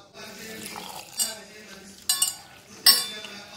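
A spoon mixes spinach and wheat flour dosa batter in a bowl, quiet wet stirring broken by three sharp metallic clinks against the rim, close up.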